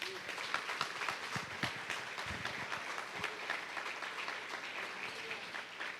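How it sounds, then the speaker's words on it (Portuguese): A congregation at a church service applauds strongly, many hands clapping in a steady, moderately distant roar with occasional voices beneath it. "Aplauda o Senhor bem forte."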